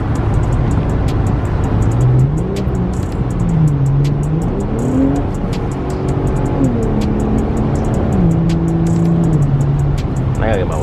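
An Infiniti Q50 cruises a rainy night highway, engine pitch climbing and dropping through shifts under steady road and rain noise, with a rhythmic ticking of wipers or tire seams; someone talks over it.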